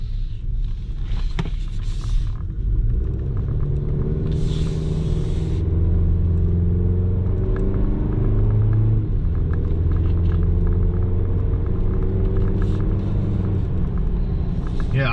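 A 2024 Chevy Colorado ZR2 pickup truck's engine drones with a steady low rumble while driving, and road and cabin noise run beneath it at an even, constant level.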